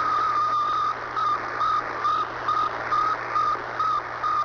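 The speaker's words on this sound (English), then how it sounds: "That was the sound of Sputnik 1." Sputnik 1 satellite radio signal, a regular series of short electronic beeps pulsing roughly twice per second, steady and moderately loud over a constant static hiss.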